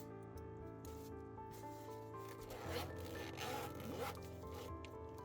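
A zipper on a jam-packed tool pouch is drawn steadily along its track, a continuous close raspy rubbing that swells in the middle and runs without pause, with no talk.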